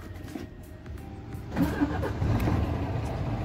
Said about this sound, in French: je suis obligé de mettre mon moteur en route déjà